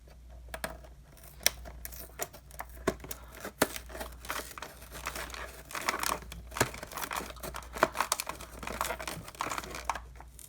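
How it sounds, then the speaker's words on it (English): Toy packaging gets cut open where a stuck plastic flap won't release, giving a run of close, quiet crinkles, snips and scratchy plastic rustles in irregular bursts, with no talking. "Or just cut the flap, I guess. Because the plastic flap is stuck."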